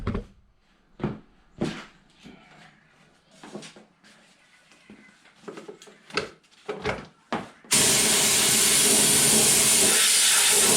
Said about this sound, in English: I'm just gonna blow some air in the compartment here